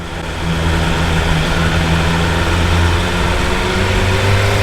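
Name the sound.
motorcycle engine revving high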